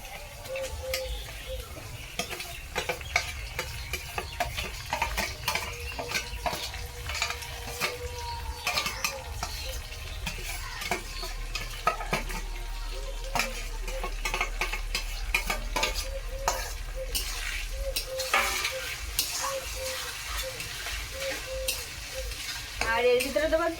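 Onion, garlic, ginger, cumin and dried chilli pastes frying together in a pan, with a continuous sizzle under frequent scraping and stirring of a spatula against the metal, close and steady throughout.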